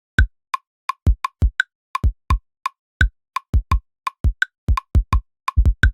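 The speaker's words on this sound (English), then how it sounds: "So the kick is a super basic one." A heavily EQ'd kick drum from an electronic music production track thumps in a repeating pattern of short, punchy hits, close and loud, with a tight click on each attack and no voices.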